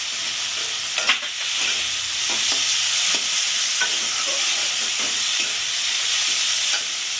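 Tomato and green chilli paste with spices sizzling and frying in a pan for a Bengali-style crab curry, a steady hiss with scattered stirring scrapes and clicks.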